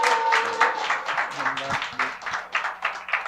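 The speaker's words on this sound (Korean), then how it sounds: "여러분 큰 박수로 환영해 주십시오" A church congregation at YDP Hana Church claps steadily in welcome for the missionary Baek Bu-jang during a Friday invitation worship service. The crowd's applause is dense and sustained throughout, with some voices and low hall sounds mixed underneath.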